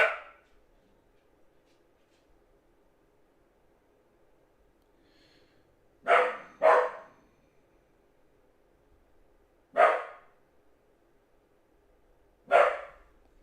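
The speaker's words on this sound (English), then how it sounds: "Dogs barking at something." Dogs bark nearby in a quiet setting. Five sharp, separate barks come with long gaps between them, two of them in a quick pair, and no one is talking.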